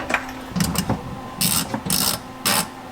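Ratchet tightening coilover bolts on a BMW E36, several quick clicking ratchet strokes in short bursts, close and crisp, with brief pauses between pulls.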